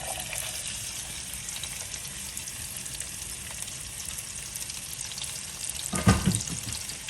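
Chopped onions hit hot smoked bacon fat in a pan, giving a steady broadband sizzle throughout with a brief louder burst of crackling near the end as they land and spread.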